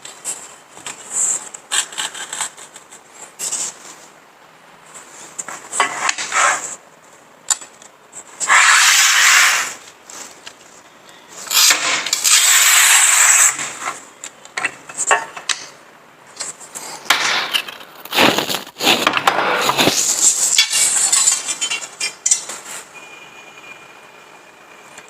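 A tile-cutting machine slicing porcelain and ceramic tiles, with several loud bursts of high, hissing grinding rising and falling between quieter pauses; no talk.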